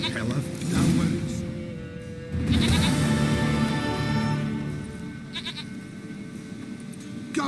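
A goat bleats in The Witcher 3 video game with two loud, close, wavering cries, the second drawn out, while a voice talks over the bleats.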